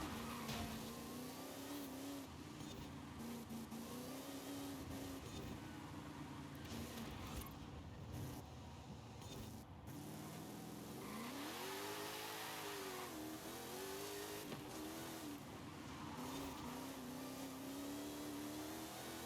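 Noble M400 sports car in Forza Horizon 5, its engine revving up and down through gear shifts in a sustained mid-pitched drone that rises and falls, with brief dips under braking, loud and close without speech.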